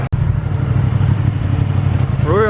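A 2021 Ducati Panigale V2 motorcycle rides away, its engine a loud, steady low drone with a rising rev near the end.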